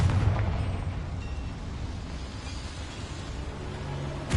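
A Confringo blasting spell going off in Hogwarts Legacy: a loud, rumbling explosion that starts with a heavy boom and rolls on as a sustained roar, with a fresh burst at the very end and no talk.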